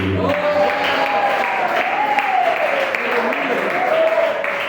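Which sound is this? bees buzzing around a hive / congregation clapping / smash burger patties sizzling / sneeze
congregation clapping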